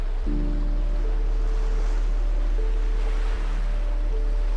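Prehistoric Devonian-era sea waves in the ancient Ural Sea wash in a continuous, steady roar, with a low rumble underneath and a faint tonal hum running through.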